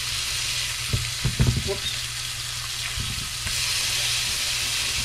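Fish fries in a pan with a steady broadband sizzle, and a few brief clatters of turning or stirring sound close by. A short exclamation is heard over it.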